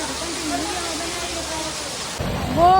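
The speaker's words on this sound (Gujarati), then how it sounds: "જોરદાર વરસાદ વરહે છે" Heavy rain falls steadily as a dense, close wash of noise through most of the stretch, then the texture shifts near the end as a voice briefly rises over it.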